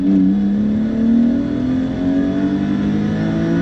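A 1991 BMW M5 E34 pulling hard in second gear from about 3,500 rpm on a highway, the engine note rising steadily and loudly from inside the cabin with no talk.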